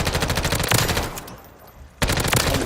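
Rapid automatic gunfire from the XM4 in the Warzone video game, a dense, loud stream of shots that breaks off briefly for about half a second and then resumes at full intensity.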